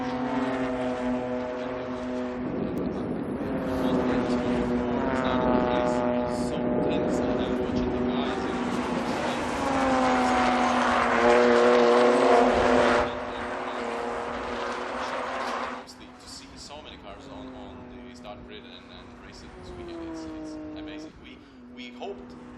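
BMW 325 Cup race cars lap a circuit in Pärnu, Estonia, their engine notes climbing and falling through gear changes as cars pass, with a commentator talking over the steady racing noise.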